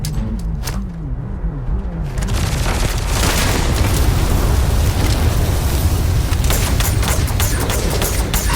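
A grenade blast in a video game: a loud, broad boom that swells around two seconds in and then rolls on as a sustained, dense rumble for the rest of the clip, with no talking.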